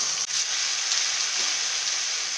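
Spiced vegetables with salt and Kashmiri red chili powder frying in a pan, a steady bright hiss and crackle of hot oil with a brief scrape of stirring, close and uninterrupted.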